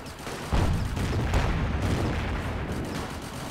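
Cannon fire booms in the Company of Heroes 1: The Great War 1918 video game, a sudden loud blast followed by a rumbling, sustained wash of battle noise.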